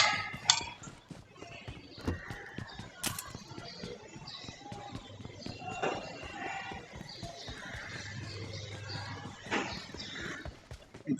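Horse hooves clip-clop in a video game, a steady stream of hoofbeats mixed with other game sounds and thumps, moderately loud throughout.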